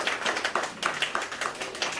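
An audience claps in a brisk, uneven patter of hand claps, fairly faint and heard alone without talk.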